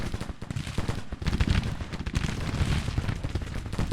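Massed musket and cannon fire in Grand Tactician, a Civil War strategy game set in spring 1861: loud, continuous crackling volleys with heavy booming blasts rolling underneath, dense and unbroken throughout.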